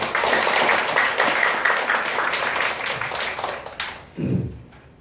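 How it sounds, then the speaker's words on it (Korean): An audience at a church debate claps for a Presbyterian pastor being introduced as the next speaker, a dense burst of applause that fades out near the end as a voice briefly starts. "우리 박수 부탁드리겠습니다"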